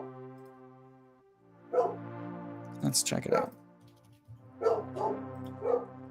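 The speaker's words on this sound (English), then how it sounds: "Dog's going nuts." A few house dogs bark in short bursts, spaced apart and somewhat muffled, while someone talks in the foreground over them.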